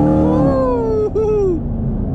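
A 2019 Chevrolet Camaro SS with a 10-speed transmission at wide open throttle: a loud, close exhaust note climbs steadily in pitch, dips briefly at a quick upshift, then keeps pulling upward before easing off.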